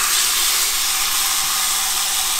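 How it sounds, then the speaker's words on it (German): A venison leg searing in a pan of rendered bacon fat gives a loud, continuous close-up sizzle, steady throughout with no talk. "jetzt braten wir einfach 2 Minuten rechts, links von jeder Seite einmal an"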